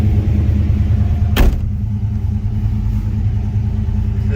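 A 1947 Chevrolet 2-door business coupe street rod idles and rolls with a deep, steady engine rumble heard from close by, broken by a sharp brief thump early on.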